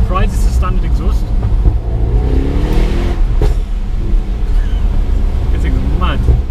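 A 2018 Mercedes-AMG E63 on its standard exhaust revs hard and lets out a few sharp bangs amid loud engine roar and wind buffeting, while someone talks over it.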